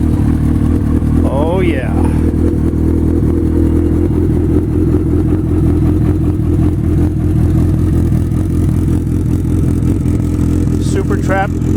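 A 1986 Yamaha FJ1200 motorcycle engine, fitted with a Super Trap 4-into-1 muffler, runs steadily at idle with a loud, continuous throbbing rumble that fills the clip. A person speaks briefly over the engine noise.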